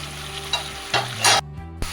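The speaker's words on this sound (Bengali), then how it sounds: "আমি এবার ভালো করে এটাকে কষে নেব ভালো করে।" Potato and cauliflower pieces tossed with spices in a hot pan, a steady sizzle broken by several short scraping stirs of the spatula, close and fairly loud with no talking.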